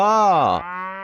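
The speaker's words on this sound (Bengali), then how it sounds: "গরু বাছুর দাঁড়িয়ে আছে" A single loud, close cow moo, deep and drawn out, dropping in pitch at the end.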